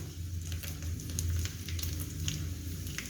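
Edible gum (gond) frying in oil over a low flame, a soft, continuous close sizzle with faint bubbling crackle, steady and unbroken throughout, no talking.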